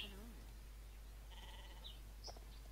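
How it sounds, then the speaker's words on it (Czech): Sheep bleat in the Star Stable Online video game. Several faint, short bleats come at scattered moments over a steady low hum. "všude jsou ovečky"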